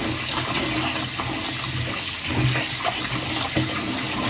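Cold tap water runs steadily over crappie fillets in a sink or container, a loud, close, continuous splashing rush with small irregular spatters and no voices.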